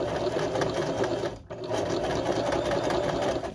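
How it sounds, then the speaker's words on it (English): A sewing machine runs steadily while stitching a crotch seam, a continuous close whirring hum that stops briefly for an instant midway and then resumes. "I'm just going to sew up to my pin and then remove it"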